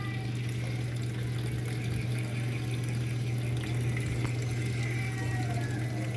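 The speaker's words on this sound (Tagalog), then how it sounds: "Maglalagay pa lang ng tubig." Steady rushing water flows continuously over a low mechanical hum as water fills a Sharp automatic washing machine drum, with no voices.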